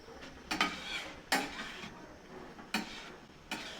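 Boiled potatoes and mixed spice being stirred in a pan on a gas stove, heard as about five quiet, separate scraping strokes spaced roughly a second apart, with a faint sizzle between them.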